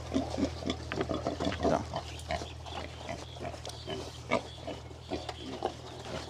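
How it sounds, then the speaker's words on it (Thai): Free-range crossbred wild pigs at feeding time on a farm, with a steady chorus of grunts and snorts from several animals crowding close, over a constant low hum. "หมูดันมาฝั่งนี้เลยครับ"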